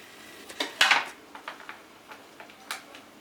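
A utensil mixing whole milk and milk chocolate bars in a hot double boiler, producing light metallic taps and clinks against the bowl, one louder scrape early and softer ticks after, close and quiet with no voices.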